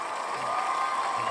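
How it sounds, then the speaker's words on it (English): Crowd cheering sound effect played on a motorsport podcast, a short burst of distant crowd noise with cheers and applause at moderate level. "Here's some cheering for you."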